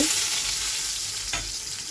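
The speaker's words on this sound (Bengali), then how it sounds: "এদিকে বড়া ভাজি বসিয়ে দিয়েছি" Steady, close sizzling of spinach fritters frying in hot oil, a dense crackling hiss with one brief knock partway through.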